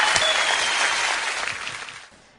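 Audience applause for a group of leaders, a dense clatter of clapping that starts full and gradually thins and fades over a couple of seconds.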